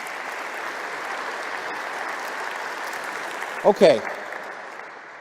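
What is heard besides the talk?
audience applause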